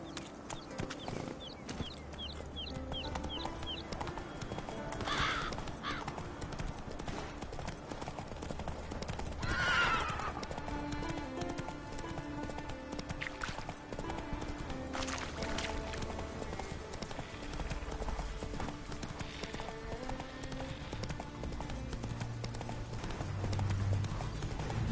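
Horse hooves clip-clop steadily through The Witcher 3: Wild Hunt, with a couple of clear neighs and whinnies rising over the game's ambient sounds.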